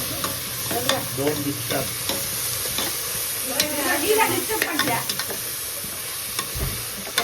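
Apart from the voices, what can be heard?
sautéing and stirring chicken biryani masala in pan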